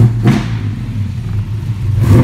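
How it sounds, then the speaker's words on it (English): A 1967 Camaro RS pro touring car's engine revs up sharply twice, at the start and end, settling into a loud, steady idle rumble between the blips, with no talking. "give you a couple more revs"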